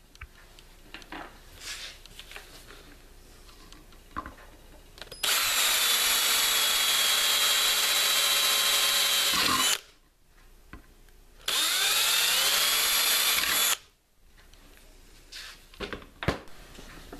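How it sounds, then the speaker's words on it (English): A power drill whirs loudly in two bursts of several seconds each, drilling holes for a hanging bracket on an aquaponics tower, with quieter tapping and handling noises before and between them. "I'm laying out drill holes for the hanging bracket."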